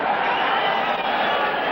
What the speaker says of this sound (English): Crowd trying to urge Morales on.